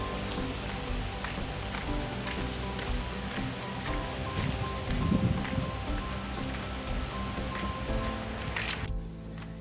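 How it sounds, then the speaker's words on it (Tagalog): Strong wind gusting along a shoreline, a dense, steady rushing roar that fills the whole stretch at fairly even loudness before cutting off abruptly near the end. "tingnan mo yung hangin guys, kung gaano kalakas yung hangin dito"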